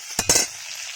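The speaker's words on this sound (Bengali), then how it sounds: "এবারে এতে গোটা গরম মশলা ফোড়ন দেবো" Whole garam masala hits hot oil in a kadai with two quick sharp crackling bursts close together, followed by a softer steady sizzle.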